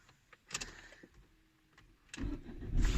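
A stalled car's engine is cranked over, with a few clicks and faint mechanical knocks first, then the starter grinds and the motor catches, growing to a loud close rumble at the end.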